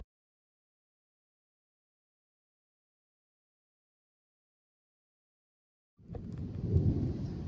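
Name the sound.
thunderstorm approaching, thunder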